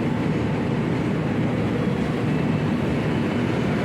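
The passenger train KA Bogowonto runs between Yogyakarta and Jakarta, a loud, steady rumbling roar heard from close by, constant and broadband throughout without clear clacks or breaks.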